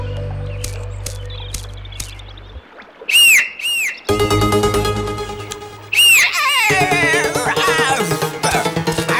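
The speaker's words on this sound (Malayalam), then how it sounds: "എങ്കിൽ വേഗം ചൂളമിട്." A long, shrill whistle in an animated riverbank scene, blown to call a boatman, rings out in a few sharp rising and falling bursts over busy cartoon music.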